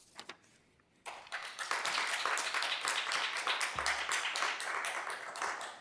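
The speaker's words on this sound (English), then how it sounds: "please, before you do that, hold your applause down because it's just taken time" Audience applause breaks out at a City of Yucaipa council meeting: after a second of quiet with a few stray claps, dense, sustained clapping erupts from a roomful of people and carries on steadily.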